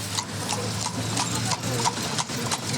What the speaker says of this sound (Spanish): Más caballos.